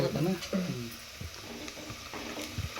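Onion, oil and chili masala fry in a pressure cooker with a steady close sizzle and occasional stirring scrapes, while a voice talks briefly over the start.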